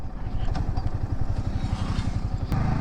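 A Yamaha R15 V4 sport motorcycle engine runs steadily throughout with a dense, throbbing rumble. It sounds loud and close, with faint mechanical clatter on top.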